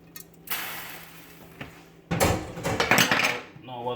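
A spoon stirs rice and peas in a pot, giving a couple of clinks and then a burst of scraping and knocking against the metal, close by.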